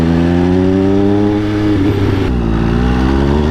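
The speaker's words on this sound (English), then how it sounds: "The bike sounds so freaking amazing, man." An MV Agusta Brutale 800 RC motorcycle fitted with an SE Project exhaust idles loud and close with a deep, rich, steady engine tone that briefly shifts in pitch before settling again.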